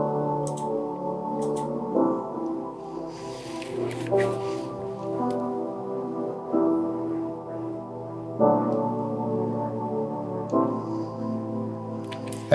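Sustained synth chords from an FL Studio Flex preset called Start Theme play in an Afro House track, changing every two seconds or so with a steady low bass beneath and faint percussive ticks on top.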